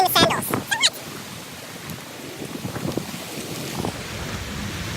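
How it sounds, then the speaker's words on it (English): Hurricane Irma winds buffeting outdoors, a broad roaring gust noise with microphone rumble, steady throughout after a brief burst of voices at the start. "We're getting blown away. The hurricane."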